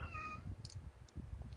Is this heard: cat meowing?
yes